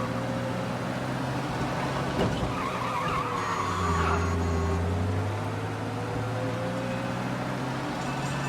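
A car in Mafia: Definitive Edition driving fast with a steady engine drone and a long, rising tire squeal as it skids, continuous and close with no talk.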